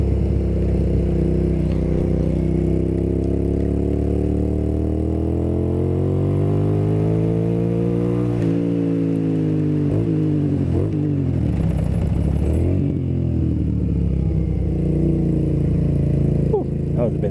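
Motorcycle ridden on a wet road, the engine droning steadily close by with rising and falling pitch as the throttle changes, wind and road noise underneath throughout.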